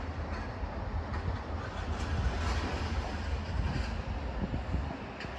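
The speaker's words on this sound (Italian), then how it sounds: "Il treno regionale di Trenitalia proveniente da Portogruaro Camere e diretto a Venezia Santa Lucia nelle ore 14:40 e in arrivo al binario" A Trenitalia regional train from Portogruaro bound for Venezia Santa Lucia arrives at a Venezia Mestre platform, giving a steady, loud rumble of wheels and carriages that rises slightly midway and holds without a break.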